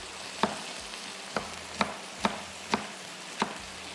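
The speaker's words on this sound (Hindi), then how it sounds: "जब तक ज़ीरा भून रहा है।" Cumin seeds sizzle and crackle in hot oil, with a steady frying hiss punctuated by regular scraping stirs about every half second.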